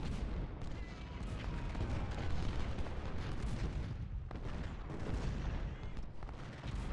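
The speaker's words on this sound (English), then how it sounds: "you can see Tyler's not shooting, but the Enfields are peppering Tyler" Massed Enfield rifle fire in the Civil War strategy game Ultimate General: Civil War, a dense, continuous crackle of distant volleys and rumbling booms layered thickly with no pauses.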